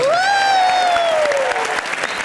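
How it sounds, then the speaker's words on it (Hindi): Studio audience applause on a live comedy show, loud, continuous clapping with a shrill rising and falling whistle carried over the top. "तो जीतू जी के लिए भी जोरदार तालियां"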